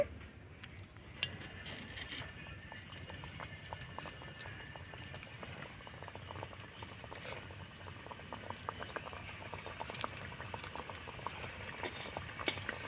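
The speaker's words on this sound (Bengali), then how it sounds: "একইভাবে করে আমি নিমকিগুলো ভেজে নেব তেলের মধ্যে" Nimki pastry frying in oil, a soft, steady bubbling crackle running continuously, fairly faint and with no voices.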